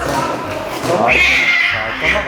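A hostile cat meows and yowls as three vets struggle to hold it, with a drawn-out cry in the middle of the clip over people's excited talk and laughter.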